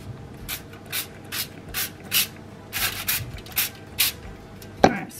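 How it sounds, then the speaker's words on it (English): A series of short hissing bursts from a Frylight cooking oil spray, about a dozen quick pumps in an uneven rhythm, close by, ending with a light clunk. "I'm just going to spray it with a bit of fry light."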